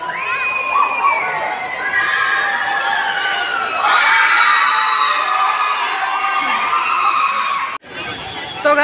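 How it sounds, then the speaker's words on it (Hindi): A noisy crowd inside the Raj Bhavan in Ranchi, Jharkhand, with loud overlapping shouts and chatter, including children's voices, that goes on throughout before cutting off abruptly near the end. "अब अंदर में शोर हो रहा है, फिलहाल आवाज़ काफ़ी ज़्यादा आ रहा है।"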